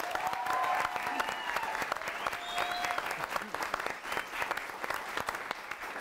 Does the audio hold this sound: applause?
yes